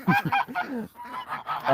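Geese in a chicken coop honk loudly and close, a quick run of several harsh calls, a short pause, then another burst of honking.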